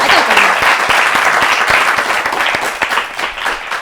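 An audience applauds a child quiz contestant on a children's television show, producing a loud, dense wash of clapping that holds steady and then tapers slightly, with no talk over it.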